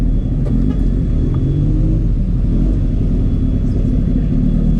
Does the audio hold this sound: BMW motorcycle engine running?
yes